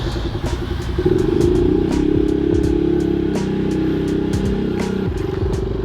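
A motorcycle rides along a road in Angeles City, its engine droning steadily and rising as it accelerates, with clattering bursts throughout and no one speaking.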